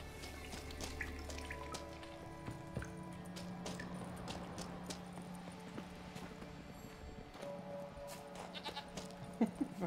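Goats bleat in the video game The Witcher 3, short nasal calls rising over a busy game soundscape with hoof clip-clop and steady ambient tones, fairly close and moderate in level.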